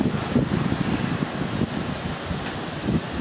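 A strong wind storm at Cayuga Lake gusts of up to 60 mph roar steadily into the microphone, with continuous buffeting rumble and no voices.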